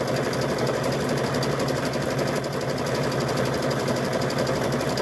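A sewing machine runs steadily throughout, stitching embroidery onto rope with a continuous mechanical whir and rapid needle rhythm, close and even in level.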